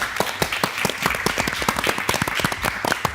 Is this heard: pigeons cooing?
no